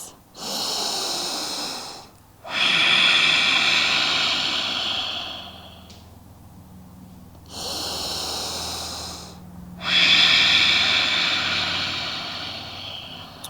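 Slow, deep, audible breaths during a yoga pose, alternating long noisy inhales and exhales in a steady rhythm, close and fairly loud with no talking.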